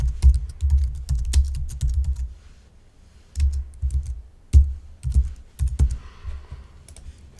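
Typing on a computer keyboard comes in quick clusters of clicking keystrokes, close and crisp, pausing for about a second midway before resuming in short bursts.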